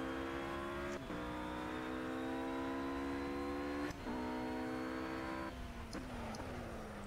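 Race car engines in the Project CARS video game, with an Aston Martin closing fast on a straight, drone in a steady, loud whine that rises smoothly and dips briefly at each gear shift.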